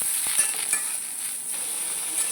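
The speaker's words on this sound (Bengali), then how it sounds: "এই দেখুন ভিন্ডিগুলোকে আমি এরকমই ভেজে নিয়েছি" Whole okra (bhindi) frying in a pan: a steady, fairly quiet hiss of oil with a couple of faint utensil taps near the start.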